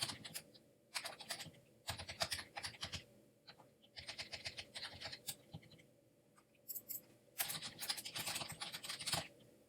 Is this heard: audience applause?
no